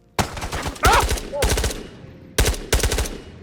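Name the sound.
gunfire in VR video game Ghosts of Tabor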